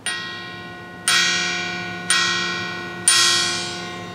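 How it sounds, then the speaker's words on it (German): Lowest church bell in a tower, tuned to F and weighing about 3.5 tonnes, struck with a hammer four times at roughly one-second intervals, each bright clang ringing on with a long humming decay. "Ich würde jetzt mal unten anfangen, bei der untersten Glocke. Das ist nämlich ein F."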